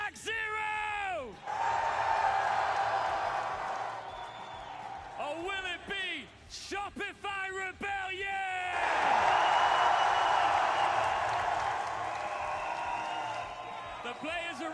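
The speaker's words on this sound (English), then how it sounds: "The crowd is hyped, as you can tell." An esports arena crowd at a Rainbow Six major final cheers, whoops and applauds loudly in sustained waves, with an announcer's amplified voice calling out over the noise in between.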